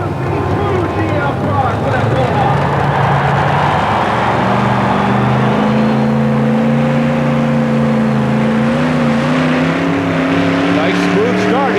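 Chevrolet 4WD modified pulling truck at a 1991 Tampa Stadium truck pull, engine roaring loud and steady through the pull with pitch climbing, crowd noise and an announcer's voice underneath.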